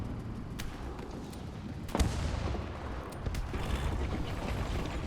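A low-caliber howitzer fires in the War Thunder video game. One sharp boom lands near the middle and a fainter shot follows later, both set against a low, constant rumble.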